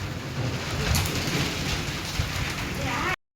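Sudden torrential rain lashes down during a cyclone in Bajud, a dense, steady roar of downpour with wind, close and loud, before cutting off abruptly at the end.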